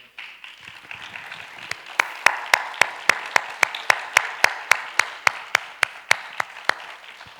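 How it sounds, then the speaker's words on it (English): Applause from an audience at an inaugural awards ceremony, scattered clapping at first, then a few close hands clapping in a steady, regular rhythm over the softer crowd. "we want to applaud you"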